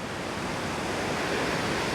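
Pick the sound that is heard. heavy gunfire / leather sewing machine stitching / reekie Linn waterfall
reekie Linn waterfall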